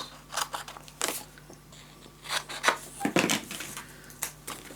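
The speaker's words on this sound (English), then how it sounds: "Cut the corners." Scissors snip the corners of paper pieces for a Christmas mini album in a quiet indoor craft setting, making a few short, crisp cuts spaced a second or so apart.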